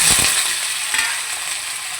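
Potato and pumpkin pieces hit hot oil flavoured with black cumin, setting off a loud, close, steady sizzle with a couple of stirring knocks at the start.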